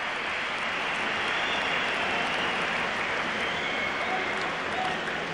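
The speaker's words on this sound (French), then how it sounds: "Canadien qui mérite alors parfaitement ses applaudissements" A crowd in an ice hockey arena applauds continuously during a stoppage in play at the 1989 Spengler Cup game between Spartak Moscow and Canada, an even, sustained roar of clapping.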